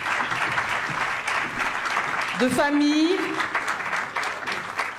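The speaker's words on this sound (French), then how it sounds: "On les applaudit pendant qu'ils se mettent au pied du podium pour la photo" A conference audience applauds panelists as they gather at the foot of the podium for a photo: steady, dense clapping fills the whole stretch while a voice talks over it.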